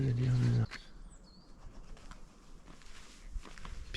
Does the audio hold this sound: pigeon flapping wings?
yes